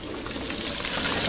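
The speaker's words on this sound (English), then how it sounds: "And we have a whole heap of fish here, so I fry." Fish sizzles in a frying pan during outdoor winter backyard cooking, a steady, close crackling fry that runs unbroken with no voices over it.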